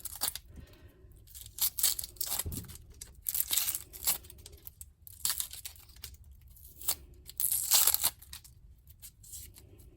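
Casing being cut and peeled off sausage for jambalaya, heard as close, irregular tearing and crinkling bursts with small scrapes, no talking.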